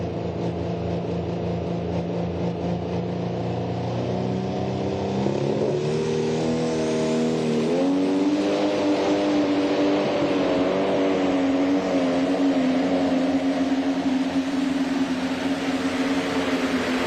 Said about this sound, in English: The sound of that tractor. Good strong run right there.